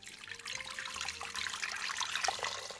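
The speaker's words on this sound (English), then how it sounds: "Add your water," Water pours steadily into an Instant Pot while cooking borracho beans, a continuous splashing trickle with a faint hum underneath, close and moderately quiet, no talking.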